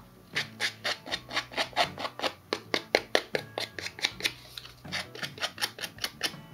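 Rapid rhythmic scraping strokes, close and crisp, as a scissor blade is rubbed repeatedly along a paper edge, about four strokes per second.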